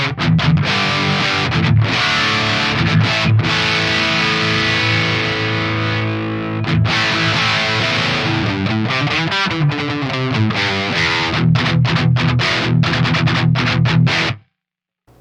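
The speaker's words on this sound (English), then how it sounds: "you can get some pretty blistering tones when you're up here. You have lots of gain." An electric guitar plays a blistering, high-gain lead line on the bridge pickup through an Axe-Fx III Friedman Small Box amp model, loud and continuous with sustained distorted notes and fast runs, then cuts off at the end.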